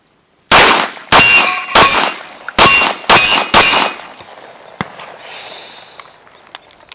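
Six loud, close pistol shots from a Canik TP9 SFx ring out against a swinging steel target, each crack followed by a metallic clang, spaced unevenly over about four seconds before fading into quieter ringing and faint outdoor noise.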